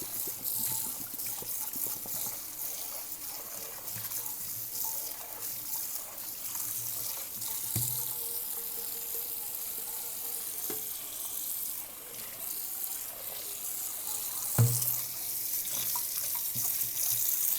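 Tap water runs steadily into a non-stick cooking pan, a continuous hiss and trickle with a couple of brief knocks as the pan shifts in the sink.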